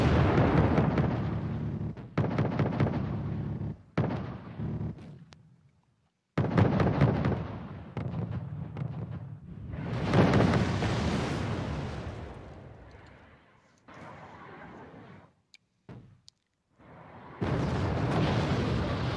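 Missile strikes and explosions in the real-time strategy game Wargame come as heavy, rumbling booms in repeated bursts, broken by brief silences, with one long roaring blast near the middle and a quieter stretch toward the end.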